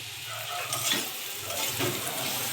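Amla (Indian gooseberry) sprinkled with black salt stir-frying in a pan for gur pickle, a steady close sizzle with scraping stirs and a couple of louder clatters of the spoon.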